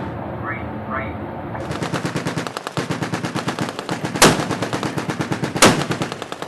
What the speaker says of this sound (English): all the ships are going to open fire on the killer tornado at the same time